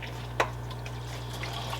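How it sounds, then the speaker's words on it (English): Aquarium water rushes into a canister filter after the outlet valve is opened, a steady wet hiss and gurgle with one brief splash early on, over a constant low hum. "That's water from your tank filling up your canister."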